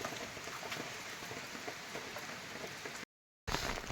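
Steady rain falls over an Uttarakhand mountain village as the weather turns toward snow, a dense even hiss of drops on surfaces that carries on with a brief dropout near the end.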